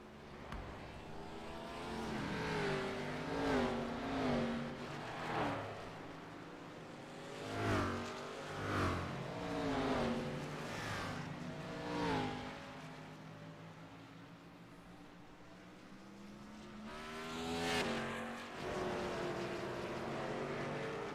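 Race cars in a six-lap heat on a Michigan track, engines roaring past in repeated swells that rise and fade as cars pass, with a steady mechanical drone between passes and no talk.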